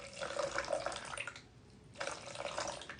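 Distilled water being poured into a container to make lye for soap, a steady splashing trickle heard close by that pauses briefly midway and then resumes.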